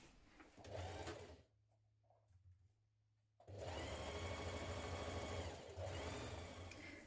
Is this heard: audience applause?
no